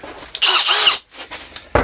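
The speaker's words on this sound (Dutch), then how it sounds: "Maar ik ga dit met de boormachine doen." A handheld electric drill spins a homemade fluid coupling built for a four-stroke engine, giving a loud whirring burst for about half a second, then softer uneven spinning and a sharp final clatter.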